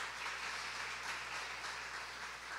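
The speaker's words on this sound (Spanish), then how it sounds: "Dele un aplauso al Señor por eso." A church congregation applauds during an evangelical sermon, a soft, even, distant wash of clapping over a low steady hum.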